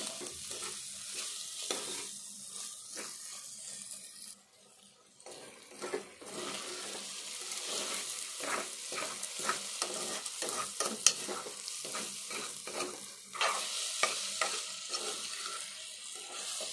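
Moong dal and egg curry ingredients frying in hot oil while a spoon stirs them in the pan, a steady close sizzle with frequent scraping strokes and a brief splash of water near the end, no voices.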